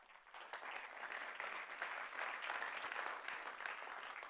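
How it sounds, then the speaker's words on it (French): An audience applauds award winners at a French data and marketing prize ceremony, a faint, dense wash of many hands clapping steadily throughout, with no one speaking over it. "On peut les applaudir"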